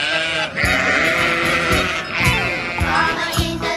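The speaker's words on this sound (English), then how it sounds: "Sheep." Sheep bleat over and over in long, loud, wavering calls close by, one cry running into the next with no talk.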